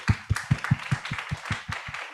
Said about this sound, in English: So big applause to all 9 presentators again.